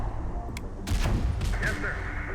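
Gunfire in the video game Terminator: Dark Fate - Defiance, a dense burst of shots and booms rolling through the middle of a short stretch of battlefield noise, with radio-style voices over it.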